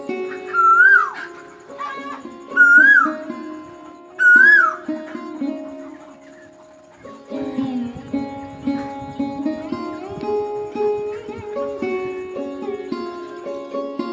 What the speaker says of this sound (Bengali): আর এদিকে দেখুন কোকিল ডাকছে।